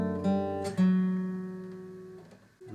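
Fingerstyle acoustic guitar notes ring out, with a few plucked notes and chords sustaining and decaying, and a fresh pluck near the end. The playing is close and solo.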